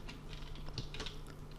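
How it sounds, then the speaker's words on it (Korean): Typing on a computer keyboard during a web search, heard as a continuous run of close, crisp key clicks with an uneven rhythm. "구글 사이트에서 제가 이제 타이핑을 합니다"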